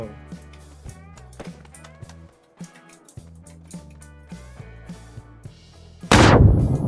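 A grenade explodes in PUBG while a building is being broken apart, a loud sudden blast near the end after a stretch of game music and clattering effects.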